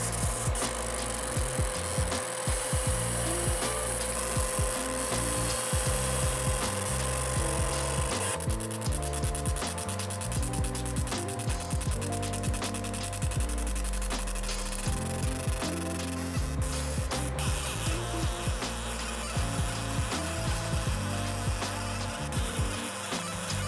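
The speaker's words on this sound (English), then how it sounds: "I was just talking about how cool the laser sounds." A laser cutter engraves small aluminum plates in an office workshop, making a continuous rhythmic buzzing and stepping whine that shifts pattern as the head moves, close and steady without talk.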